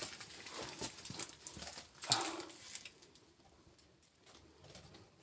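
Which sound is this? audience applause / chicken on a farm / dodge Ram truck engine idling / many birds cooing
many birds cooing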